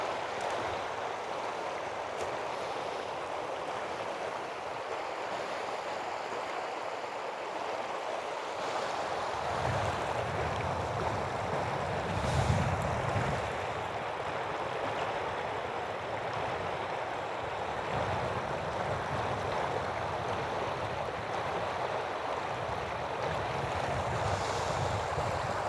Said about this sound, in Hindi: साफ और ताज़ा पानी है।